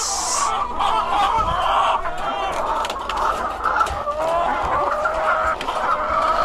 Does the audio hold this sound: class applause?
no